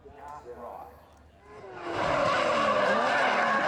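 Race cars roar around the Symmons Plains track during the Motorama motorsport show, starting quiet with distant engine notes, then swelling into a loud, sustained engine roar with tire noise.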